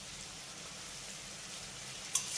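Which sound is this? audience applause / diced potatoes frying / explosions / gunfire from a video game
diced potatoes frying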